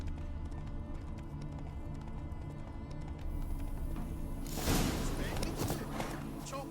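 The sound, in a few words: horse galloping in video game Witcher 3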